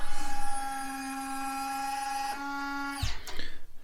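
Retractable landing gear on a repaired model aircraft retracts with a steady, close electric servo whine lasting about three seconds, shifting slightly in pitch before ending in a sharp click and a few faint mechanical knocks.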